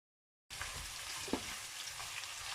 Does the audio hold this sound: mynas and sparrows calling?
no